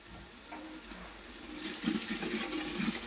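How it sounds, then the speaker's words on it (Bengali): Food frying in a pot over a clay stove while spices are added, a soft steady sizzle that swells louder halfway through, with faint stirring scrapes and no talk. "মাটির চুলা রান্না করতেছে"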